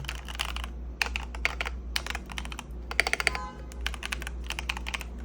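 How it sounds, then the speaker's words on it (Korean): Keys being typed on a Keychron K8 Retro mechanical keyboard with mint switches, a string of close, crisp clacks in irregular bursts with brief pauses, heard alone over a steady low hum. "엔터키 레드 소리 한번 들어볼까요?"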